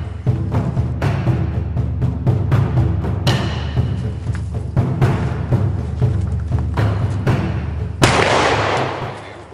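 Repeated sharp gunshots crack out at irregular intervals at a shooting range over a steady low background rumble, with a louder burst of noise near the end.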